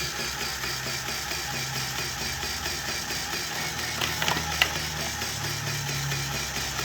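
A top-matic automatic cigarette rolling machine with a hopper runs steadily, a continuous close mechanical whir and hum with a few brief clicks near the end, and no voices.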